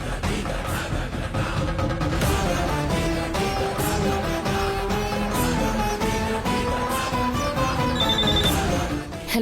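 A telephone rings with a repeated melodic bell-like ringtone, loud and steady across the whole stretch with no speech.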